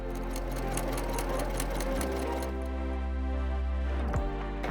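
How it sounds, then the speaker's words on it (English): A sewing machine runs in a fast, steady patter as it stitches lining into a statue's cloth robe, sewing over a wire. The rhythm shifts and slows near the end. "I'm stitching over everything, including that wire."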